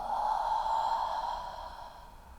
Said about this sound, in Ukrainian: І останній раз найглибше вдих носом. І видих ротом.